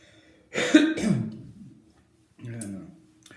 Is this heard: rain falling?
no